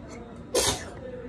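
A single sharp human sneeze bursts out close and loud in a quiet indoor setting while someone applies mascara during a makeup routine, with a faint low room hum before and after.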